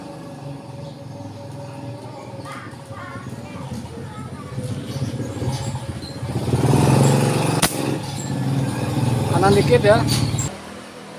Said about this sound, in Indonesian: karena berisik ya, ada motor